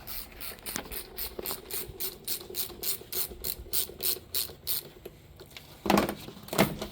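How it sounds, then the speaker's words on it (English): Rapid ratchet clicks from an 8mm socket loosening the intake tube clamp on a Jeep 3.6 throttle body, a steady run of close, even clicking strokes, followed by a couple of heavier mechanical knocks. "We'll have an 8mm on the throttle body for the intake tube."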